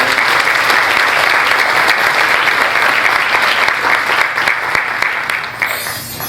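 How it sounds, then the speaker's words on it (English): Loud, sustained applause from mourners at a memorial service honoring live musicians in a church, a thick continuous clapping that holds steady before tapering off near the end. "So let's give them another round of applause."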